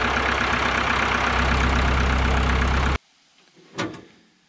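A Caterpillar D2 crawler tractor's engine runs loud and close for about three seconds, then cuts off abruptly, leaving near quiet with a short knock.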